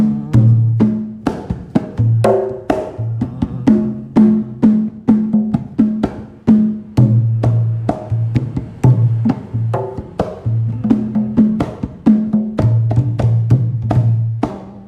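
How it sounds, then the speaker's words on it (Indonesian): A Javanese kendang hand drum pattern plays alone, deep resonant strokes mixed with sharp slaps in a steady, lively rhythm that keeps going throughout. "itu satu kalimat lagu kendangan batangan"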